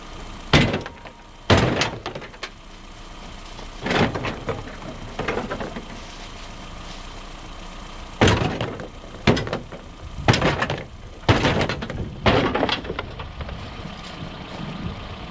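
Heavy blows from a sledgehammer or axe striking an $80 auction car, landing as loud separate metallic crashes and thuds in irregular clusters, close by, with no talk.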